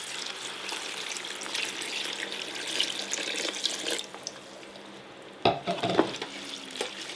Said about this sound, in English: Then I'm going to go ahead and add the water.